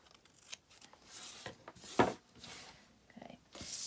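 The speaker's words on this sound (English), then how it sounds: "And then just cut these 2 little flaps off." Scissors snipping flaps off a paper junk journal pocket, a handful of faint, separate crisp cuts with soft paper rustling in between, close and quiet.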